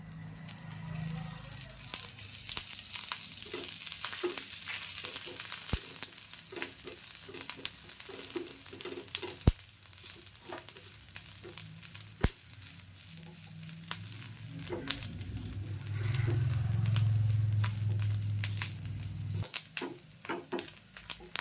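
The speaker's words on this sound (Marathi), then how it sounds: "कांदा ना आता भाजत आला आहे मी आता तेल टाकते" Onion dry-roasting in a pan before any oil is added makes a steady crackle and hiss, punctuated by scrapes and occasional clicks of a utensil, with a deeper rumbling stretch near the end.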